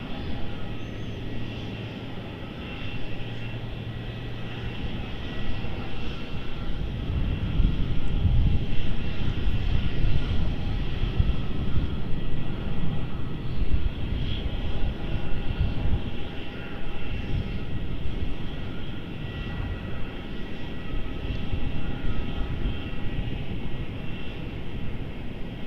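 Aircraft engines roar at Melbourne Airport as a Dash 8 crosses runway 34 and airliners wait, a loud sustained drone that swells midway and holds, with occasional faint voices underneath.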